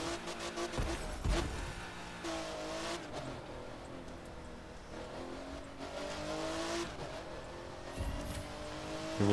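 Engine of a car driven in The Crew 2 on Xbox One X, a continuous revving drone with shifting pitch and brief tire noise, moderately loud and with no one talking.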